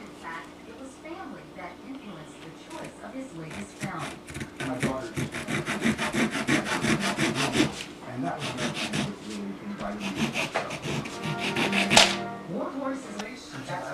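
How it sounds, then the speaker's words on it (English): A hand saw cuts a small wooden piece to length for a guitar bridge block, steady back-and-forth rasping strokes up close, with a sharper stroke near the end. "I'm cutting it off 3/8 inch shorter so it'll fit inside that block"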